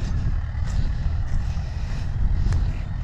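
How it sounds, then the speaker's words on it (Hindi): A Mahindra 575 DI tractor pulling a chisel plow across a field gives a steady low engine rumble, slightly distant and mixed with wind buffeting on the microphone. "देखिए अभी उधर से ट्रैक्टर आ रहा है और इस साइड जाएगा थोड़ा सा"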